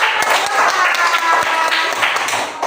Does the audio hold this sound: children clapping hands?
yes